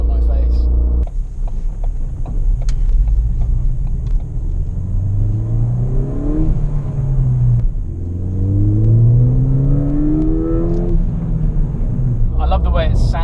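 A Ford Fiesta ST engine revs up twice, its pitch climbing and dropping in smooth sweeps over a deep, constant rumble, loud and close.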